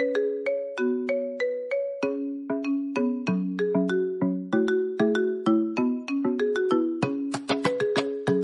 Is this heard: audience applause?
no